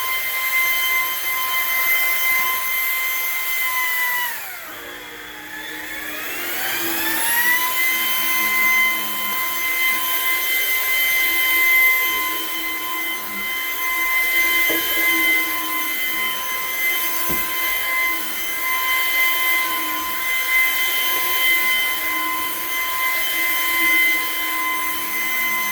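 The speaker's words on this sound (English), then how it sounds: "But we will vacuum this one off." A vacuum cleaner runs continuously at a janitorial cleaning account, vacuuming a matted rug with a steady high whine close by. Its pitch briefly drops and recovers as the machine shifts, and faint thuds come through beneath the drone.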